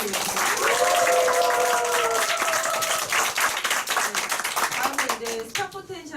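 Audience applause at a business seminar, dense sustained clapping from a crowd that fades out over about six seconds while a voice speaks over it.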